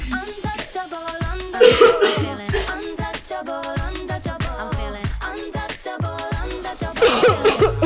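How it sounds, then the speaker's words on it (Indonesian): A girl coughs repeatedly in short, sharp bursts, some clustered in rapid fits, close and fairly loud, with brief voice sounds between coughs. "Iya, Ma, aku batuk."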